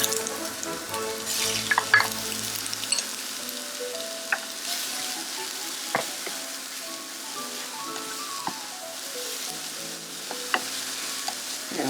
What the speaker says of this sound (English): once your oil is heated up, go ahead and get in there with your onions and the shallot